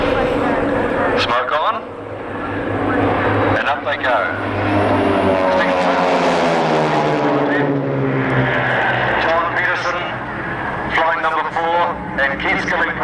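Display aircraft with smoke on climb at an air show at Matamata Airfield, their engines roaring loud and sweeping in pitch as they pass and pull up, while a commentator talks over the noise.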